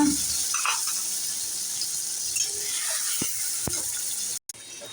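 Tomatoes hit hot oil in a pan with bay leaf and whole spices, giving a loud continuous hiss and crackle, with a few sharp pops and a brief cut near the end.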